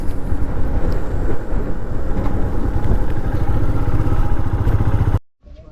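A motorcycle on a summer bike trip in the Khasi hills rumbles loudly and steadily at close range with wind buffeting, then cuts off abruptly near the end.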